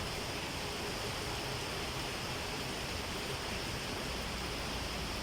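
Flood water flows along a street in a steady, dense rushing wash with no breaks, moderately loud and unaccompanied by voices.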